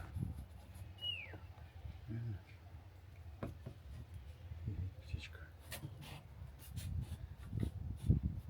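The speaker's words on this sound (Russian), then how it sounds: "Точно все спросили, а кто свистит? Представьте себе, это птичка такая." A small bird gives a single brief descending whistle, faint and distant, over a low background rumble around an old Italian house under fireplace restoration.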